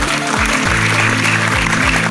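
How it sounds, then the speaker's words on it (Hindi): Audience clapping in a hall, heard as a dense, steady wash of applause with music playing underneath throughout. "मैं चाहता हूँ एक बार जोरदार तालियां इन सभी के लिए बजाई जाए।"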